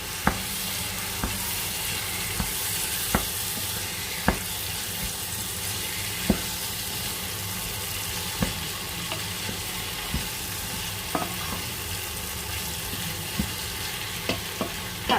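Sauce for a German beef roast, Rinderbraten, fries with a steady broad hiss in a pan, punctuated by occasional sharp clicks of a utensil as it is stirred, close and continuous throughout.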